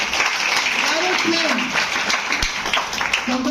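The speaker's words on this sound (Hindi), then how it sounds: "एक जोरदार ताली चाहिए।" Audience applause at a DXN distributor meeting in Patna, a thick, sustained clatter of many hands with voices calling and talking over it throughout.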